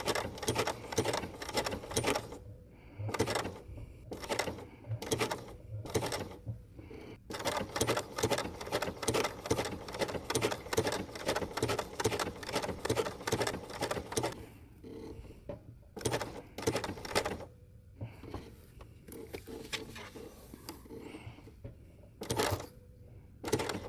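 Sewing machine run with a foot pedal, stitching down a wool applique: quiet, close mechanical whirring in short and long bursts, stopping and starting with brief pauses between runs.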